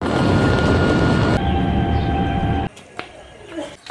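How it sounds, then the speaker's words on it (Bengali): A train arrives at Halisahar railway station with a loud, close rumble and whine that stops abruptly partway through, leaving quieter platform sounds and a sharp knock. "এই তো আমাদের ট্রেন চলে আসলো, এখন ট্রেনে উঠবো আমরা।"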